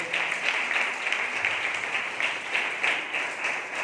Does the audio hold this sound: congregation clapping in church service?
yes